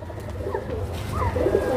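Teddy pigeons coo steadily in a low, rolling drone, several birds overlapping close by with no talk over them.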